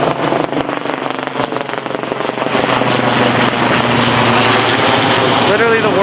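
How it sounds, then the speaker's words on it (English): Helicopter passing over a city, its broad rotor and engine roar holding loud and steady, a rhythmic chop in the first seconds, with some traffic noise beneath. "You can hear the helicopter."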